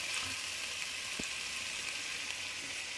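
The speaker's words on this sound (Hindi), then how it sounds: "लहसुन अदरक का पेस्ट डाल दिया, हल्का सा फ्राई किया" Garlic ginger paste frying lightly in a pan, a steady soft sizzle holding evenly throughout with one brief low knock partway through, no talking.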